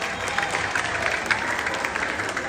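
Steady applause from a crowd at a barangay beauty pageant fills the room, a continuous dense patter of clapping at moderate distance.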